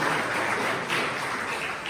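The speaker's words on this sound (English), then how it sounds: "Another applause for Pavel." Audience applause for a speaker named Pavel at a conference talk, a steady dense wash of clapping from a crowd lasting about two seconds, with a brief dip partway through.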